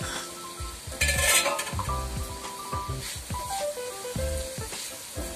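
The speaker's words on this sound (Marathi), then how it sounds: "आता 2 मिनिटं जरा हे खोबरं वाफवून घ्यायचं" Grated coconut cooking in a pan with a Malvani val bean vegetable, a continuous close sizzle under repeated scraping and clinking of a spoon stirring against the pan, with no speech.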